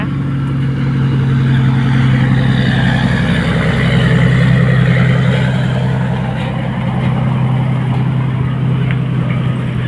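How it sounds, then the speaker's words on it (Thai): A truck engine drones steadily at low pitch as the vehicle rolls onto a river ferry boat crossing to the Lao side of the Mekong, a continuous close rumble with open outdoor ambience. "รถบรรทุกส่งของมาจากฝั่งไทยนะคะ"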